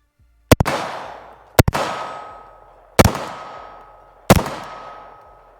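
Four loud rifle shots at a shooting range, evenly spaced about a second apart, each a sharp crack followed by a ringing, decaying echo, with no talking.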